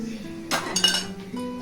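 Fried kofta are lifted into a bowl, and dishes clink and clatter briefly in a cluster of bright, close metallic and ceramic knocks, followed by a quiet pause and one more light clink.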